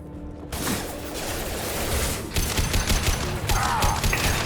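Weapon fire rattles in rapid bursts during Mass Effect 2 combat, dense and loud after a brief quiet start, with mechanical clatter and a whooshing sweep mixed in.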